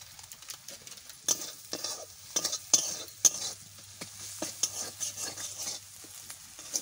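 Ground turmeric, salt and chilli powder get stir-fried in a pan for a Bangda fish kofta, with a quiet sizzle and repeated soft scraping strokes of a spoon in an uneven rhythm.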